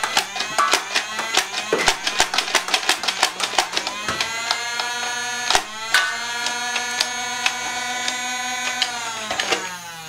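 NERF Stryfe blaster firing foam darts in quick succession, a rapid series of sharp mechanical clacks followed by a few spaced, louder shots, each ringing briefly before fading.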